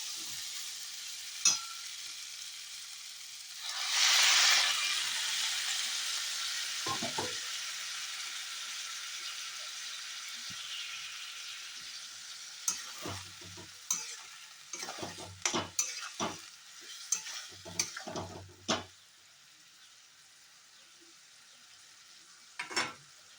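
Water poured into fried spice paste in a hot pan gives a sharp burst of hissing that settles into a quieter, fading sizzle, followed by scattered scraping and clinking as the mixture is stirred.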